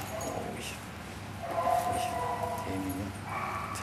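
Dogs in a research laboratory, yipping and whimpering in short irregular bursts at moderate distance amid steady room noise, with talk faintly underneath.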